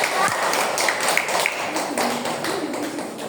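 Students in a classroom clap together for a group returning to their seats during a maths lesson, a brief scatter of close, light claps alongside voices.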